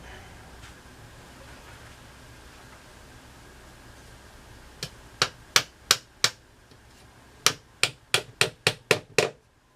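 Nails are hammered into wood: quiet room tone at first, then two quick series of about a dozen sharp, evenly spaced strikes, close and distinct.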